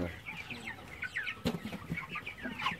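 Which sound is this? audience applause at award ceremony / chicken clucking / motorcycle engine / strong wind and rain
chicken clucking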